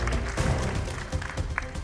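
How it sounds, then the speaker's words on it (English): A quiz audience claps for a team at an Indian Army quiz contest, a short burst of dense applause that stays fairly even and fades slightly toward the end. "A huge round of applause for team number D."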